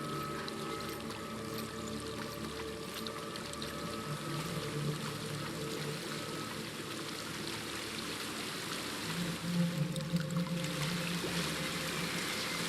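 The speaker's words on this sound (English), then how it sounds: "There's a waterfall." Waterfall in the video game Hellblade: Senua's Sacrifice, a steady broadband rush of falling water that holds evenly throughout, with a low hum underneath and no voices.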